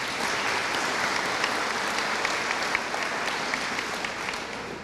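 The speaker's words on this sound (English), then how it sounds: "So let's give each other a round of applause." An audience at a school academic banquet applauds, a dense, even clapping that holds steady for several seconds.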